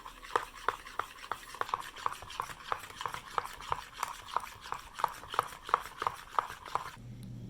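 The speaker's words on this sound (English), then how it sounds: "my cocoa powder in the mixture. And I continue mixing." Cocoa powder is stirred into a chocolate milkshake mixture with regular, close scraping strokes against the bowl, a steady rhythmic beat of about three per second that stops near the end.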